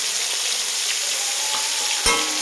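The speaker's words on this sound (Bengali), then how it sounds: "আমি এই করলাগুলো ভেজে নেব" Bitter gourd pieces frying in oil with salt and turmeric, a bright steady hiss of sizzling oil close by, with a single sharp clatter near the end.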